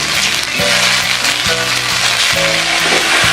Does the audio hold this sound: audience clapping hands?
no